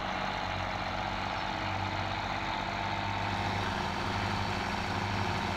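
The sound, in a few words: tractor engine in Farming Simulator 17 video game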